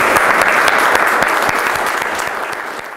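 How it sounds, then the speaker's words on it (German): Thick, lively applause from a gathered group at a masters' meeting, starting full and slowly tapering off over three seconds. "Applaus"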